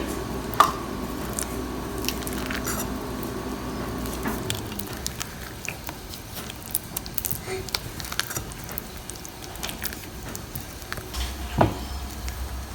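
Soaked dry fruits stirred into plum cake batter: soft wet squishing and sticky clicks from mixing, irregular and close, with a faint steady hum behind for the first few seconds.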